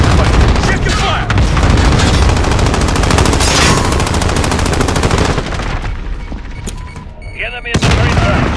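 Sustained automatic gunfire and explosions in a Call of Duty Modern Warfare team deathmatch, loud and dense bursts rattling almost continuously with brief lulls, radio-style game voices and chatter heard beneath.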